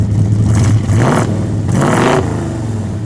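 A 1968 Plymouth Road Runner's 383 engine roars loudly and close, rising and surging in a couple of strong revs with a throaty, rumbling tone.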